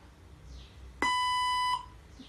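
A single steady electronic beep from a robotic language translator, lasting under a second, clear and loud against a quiet background with no talk.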